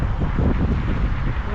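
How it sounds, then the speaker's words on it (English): Strong wind blows outdoors, buffeting the microphone with a steady, loud, low roar and gusty rumble throughout. "It's super windy out here."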